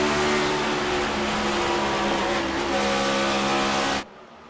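A stock car in a Next Gen Cup Series racing video game holds a loud sustained engine drone under heavy throttle, with tire squeal and track noise mixed in, until the sound cuts off sharply near the end.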